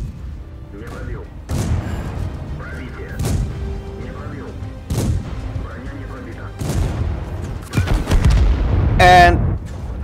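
Repeated heavy booms from a BT-7 light tank's gun firing APCR shells in World of Tanks, on the Fisherman's Bay map, each sharp blast spaced a few seconds apart amid other explosions, with someone speaking over them.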